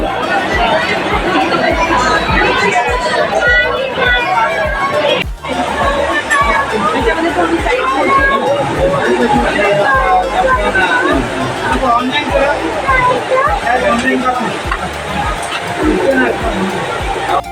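A thick crowd murmurs continuously at Siddhivinayak temple in Dadar, Mumbai, with many overlapping voices forming a loud, steady babble throughout.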